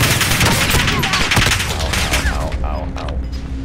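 Rapid, loud bursts of gunfire fill a Call of Duty: Modern Warfare match, a dense fusillade of close shots and thumps that eases slightly toward the end.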